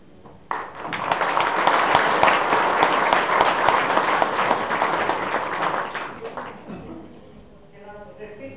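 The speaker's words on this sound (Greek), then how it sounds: "με ένα θερμό ευχαριστήριο χειροκρότημα" Warm applause of thanks rises suddenly from the audience at a Mother's Day celebration held by an Arcadia association of large families, a dense, steady clapping that holds for several seconds before fading, with a voice starting to speak at the end.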